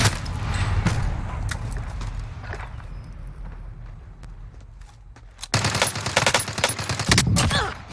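Akimbo Sykov pistols fire full auto in a video game, with dense rapid bursts of shots in the opening seconds, a quieter stretch of scattered pops, then a loud sustained volley near the end.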